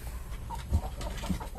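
Farm chickens, among them Rhode Island Red and Black Australorp hens, cluck softly in short scattered calls over a low, steady yard hum, with one or two slightly louder clucks standing out.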